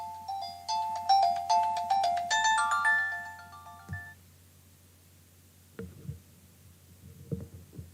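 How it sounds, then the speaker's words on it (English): A mobile phone ringtone plays a bright, repeating melodic pattern for about four seconds before cutting off, followed by quiet room sound with a few soft thumps and rustles. "I forgot to turn off my phone."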